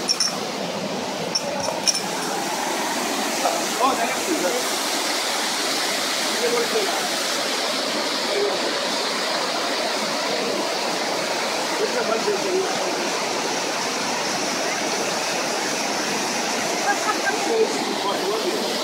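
A waterfall in Iran roars steadily and broadly from nearby, a dense unbroken rush of falling water with faint clinks near the start.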